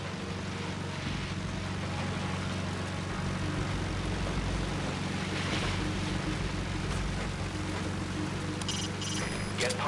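A helicopter in the video game Metal Gear Solid Ground Zeroes drones steadily with a dense, rushing rotor wash, constant and fairly loud throughout, with no talk over it.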